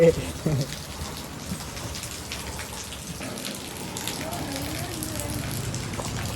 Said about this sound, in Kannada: ಮಳೆ ಜಾಸ್ತಿ ಮಳೆ